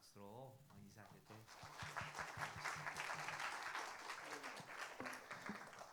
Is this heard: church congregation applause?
yes